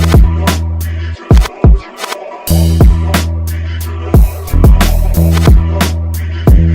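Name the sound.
beat with hard-hitting drums played back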